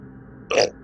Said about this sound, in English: I've been burping quite a lot.